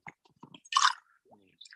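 Peanut M&Ms being chewed close to the mic, a few short crunchy bites and soft squishy mouth sounds spread over under two seconds.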